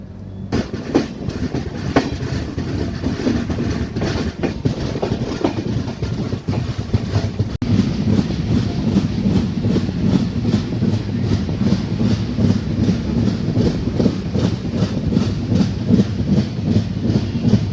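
Mandovi Express rolling along the Konkan Railway in monsoon weather, a steady loud rumble of wagons with continuous clickety-clack of wheels over rail joints running throughout, no voices.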